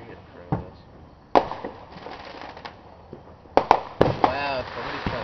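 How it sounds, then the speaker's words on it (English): New Year's Eve fireworks burst at a distance in a few sharp cracks and booms with crackling tails, while people talk nearby between the explosions. "Somebody spent some money on some fireworks."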